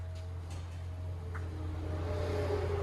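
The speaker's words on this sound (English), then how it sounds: "Challenger 2020 with Jones bullets" Exhaust of a 2020 Dodge Challenger 6.4L HEMI fitted with Jones bullets, a steady low idle rumble with a smooth, even drone and no rasp, moderately loud and building slightly toward the end.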